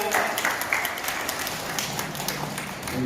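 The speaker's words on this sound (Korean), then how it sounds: "영광의 박수를 드립니다" A church congregation at a Sunday worship service claps together in a dense, sustained round of applause that fills the room evenly from start to finish.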